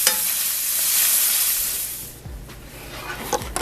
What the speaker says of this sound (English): we've added in about half the shallots, and just listen to that baby sizzle.